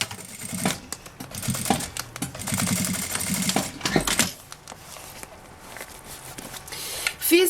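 A sewing machine stitches a seam on a toiletry bag with a clear vinyl panel, bursts of rapid rhythmic needle chatter, close and loud, pausing between runs alongside handling clicks.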